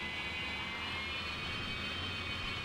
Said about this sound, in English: Just giving the engines a little tickle there.